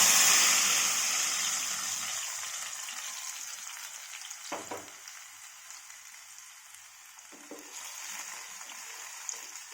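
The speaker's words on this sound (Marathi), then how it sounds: "पॅनमध्ये 1 चमचा तेल घालूया. तेल गरम झाले. आता हे मिश्रण आपण याच्यामध्ये घालून घेऊया." Spicy momos chutney mixture hits a spoonful of hot oil in a pan, erupting into a loud hiss that gradually softens, with a single utensil clatter partway through.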